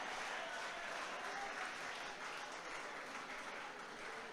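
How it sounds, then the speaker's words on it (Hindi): Audience applause at a Hindi shayari poetry performance, steady, even clapping from a crowd sustained throughout, moderately faint and without speech on top. "एक बार तालियां बजा दीजिए थोड़ा जोर से।"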